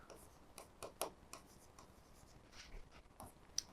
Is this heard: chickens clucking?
no